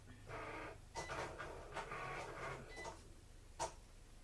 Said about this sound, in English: that one image that's cutting out on my Cricut